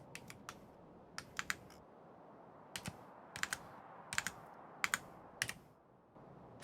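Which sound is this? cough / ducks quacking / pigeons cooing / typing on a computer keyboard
typing on a computer keyboard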